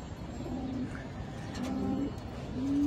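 Pigeons in a two-room loft coo in low, repeated calls over a steady background hum, moderately close, with no talking.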